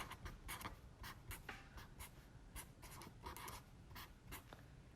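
Pen or marker scratching out fractions of a math sum, a steady run of quick, dense writing strokes with faint squeaks, close and soft, continuous throughout with no voices.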